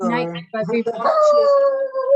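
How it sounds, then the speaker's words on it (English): A dog lets out a drawn-out howl with a wavering pitch that rises and holds, right after a person's brief speech. "That's my dog."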